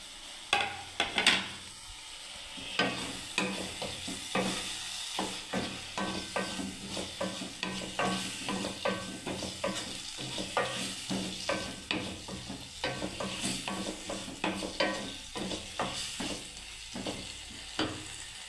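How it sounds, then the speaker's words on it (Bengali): Cauliflower florets tossed and stirred in hot spiced oil in a pan, close sizzling broken by repeated scraping and clacking stirs in an uneven rhythm, no voices. "এবার আমি ফুলকপিগুলো দিয়ে দিলাম বন্ধুরা"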